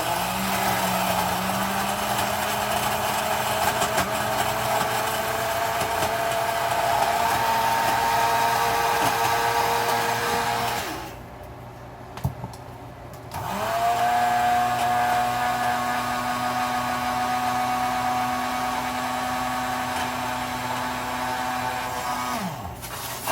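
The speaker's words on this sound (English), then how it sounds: "we're going to grind this as fine as we can" An electric grinder powders eggshells with a steady, close whirring whine. It cuts out briefly partway through, then starts up again and keeps grinding.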